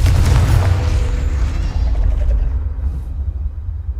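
The Confringo blasting spell detonates in a Harry Potter video game, a loud, deep boom at the start that rolls into a low rumbling tail and fades over a few seconds, with no talking.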